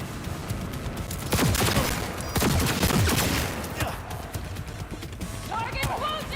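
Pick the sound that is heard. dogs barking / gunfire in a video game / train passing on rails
gunfire in a video game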